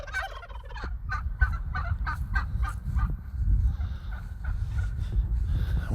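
Turkeys gobble in a rapid, rattling burst of repeated calls, several birds close by outdoors beside a garden, with no voices over them.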